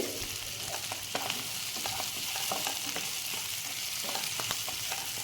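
Onion, tomato and dried red chillies stir-fry in oil for an onion chutney, giving a steady close sizzle with scattered scraping stirs and clinks throughout, no voices.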